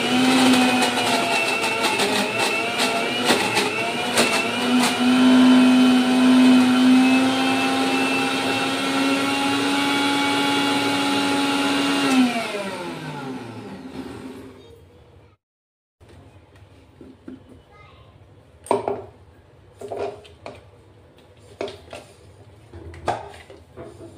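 A kitchen mixer whirs loudly and steadily, churning cream for homemade ghee, then winds down around twelve seconds in; a brief silence follows, then scattered clinks and handling noises.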